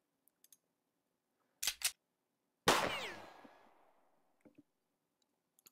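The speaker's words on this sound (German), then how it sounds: "Da kam der Schuss." A single sharp gunshot in the video game Jagged Alliance 2 cracks out, its report trailing off over about a second, preceded by two quick clicks and followed by faint ticks.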